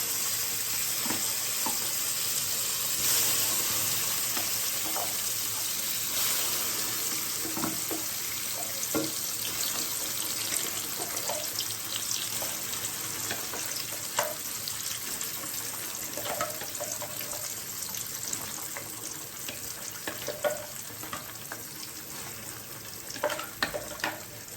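Finely ground carrot paste frying in three spoons of ghee in a pan for carrot halwa, a continuous close sizzling hiss with occasional soft stirring scrapes throughout.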